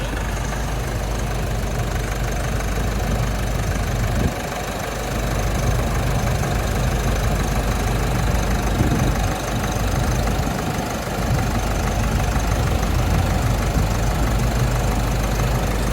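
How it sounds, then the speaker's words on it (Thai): An Isuzu D-Max 1.9 diesel pickup engine idles steadily and loudly up close, a continuous low rumble with a rhythmic knocking clatter throughout. "ให้ลองฟังเสียงเครื่องยนต์กันดูนะคะ ว่าจะแน่นขนาดไหน"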